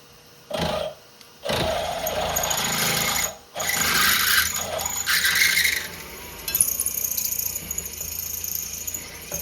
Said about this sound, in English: That drilled beautifully, but smoked so much.